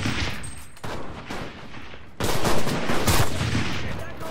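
Rapid bursts of gunfire from the World War II shooter Enlisted, mixing automatic fusillades and single shots, loud and dense throughout with a brief lull near the middle before the firing intensifies again.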